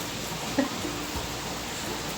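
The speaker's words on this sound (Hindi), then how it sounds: "बहुत भयंकर बारिश हो रही है" Heavy rain during the monsoon month of Sawan makes a steady, even hiss of falling water with no distinct drops or breaks.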